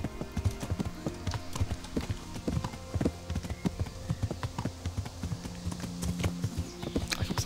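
Horse hooves clop in a brisk, steady rhythm during riding in the video game Kingdom Come Deliverance, close and even, with faint game ambience underneath and no talk.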